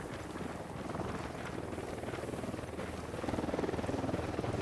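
Helicopter in the video game Ghost Recon Wildlands, a steady rotor drone and rumble that swells louder toward the end, with no talk over it.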